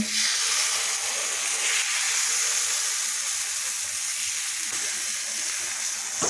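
Rice-flour pitha batter frying with butter on an iron griddle, a steady, close, even sizzle and hiss running throughout, with no voices.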